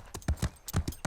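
Horse hooves clip-clop in a quick uneven rhythm, about eight loud, close strikes in just over a second, with no talk over them.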